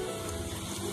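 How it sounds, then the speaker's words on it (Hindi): Cumin seeds dropped into hot oil in a kadhai sizzle with a steady, dense crackle, close and continuous through a short moment with no talking. "तेल हमारा गरम हो गया, इसमें हम जीरा ऐड कर देंगे"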